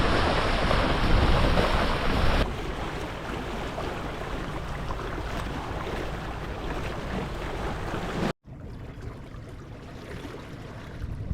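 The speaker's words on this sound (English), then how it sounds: "Now this is some proper sailing." Wind and sea waves rush steadily past a Hobie Cat FX One catamaran under sail on open water near Monfalcone, Italy, loud and unbroken with heavy microphone wind noise and a brief dropout near the end.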